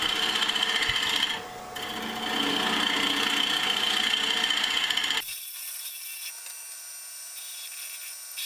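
A wood lathe turns a reverse-mounted canarywood piece while the top is flattened, giving a steady whirring hum with a rough scraping texture that cuts off abruptly after five seconds, leaving only faint background noise.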